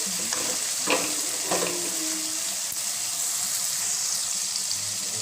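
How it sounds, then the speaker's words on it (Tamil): Onions with ginger garlic paste fry in a hot pan with a loud, steady sizzle, broken by a few scraping strokes of continuous stirring. "விடாமல் கலவிக்கிட்டே இருங்க, நல்லா அடி பிடிக்கிற மாதிரி ஆகிடும்"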